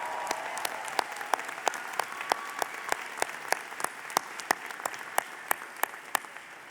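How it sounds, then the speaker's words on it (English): Audience in an arena at a university commencement ceremony applauds the musicians, a steady wash of clapping with distinct sharp individual claps standing out, moderately distant and without speech. "Let's give them a round of applause as well."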